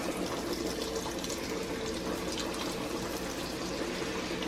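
Fish fries in hot oil in a cast iron pan, giving a steady, loud, dense sizzle that runs unbroken throughout with no talking.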